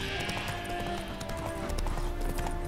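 A horse in The Witcher 3 video game clops along with steady rhythmic hoofbeats over dense game music and ambience, and a voice speaks in between.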